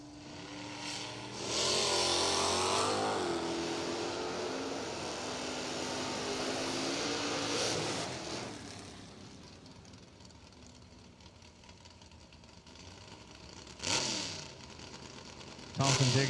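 Drag race pass between a Barracuda and a Ford Mustang, engines roaring loudly as the cars launch and accelerate down the strip, fading into distant noise with an announcer talking over it and brief loud bursts near the end.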